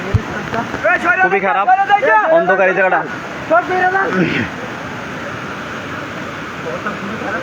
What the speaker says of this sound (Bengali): যে আওয়াজটা শুনতে পাচ্ছেন এটা হচ্ছে পানির শব্দ